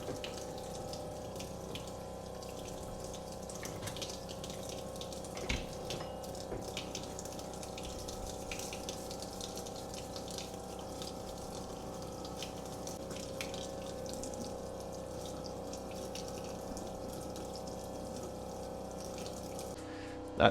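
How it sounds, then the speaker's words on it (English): Running tap water washing a red dot sight part with Dawn dish soap, a steady faint rushing stream with a constant hum behind it and a few small knocks. "we're just going to start by degreasing this with some Dawn dish soap and water"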